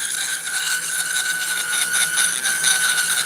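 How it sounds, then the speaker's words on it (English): A Dremel 3000 rotary tool at speed 6 smooths fuzzy wood with a steady high-pitched whine and a rough, rasping scrape, continuous and close throughout. "So let's clean that little fuzzy up with this on speed 6. Dremel 3000 speed 6."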